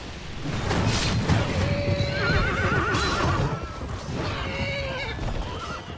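Several horses neigh and whinny over a thick clatter of hooves and a low battle din in a Medieval II: Total War Broken Crescent mod fight, with repeated whinnies rising above the steady rumble.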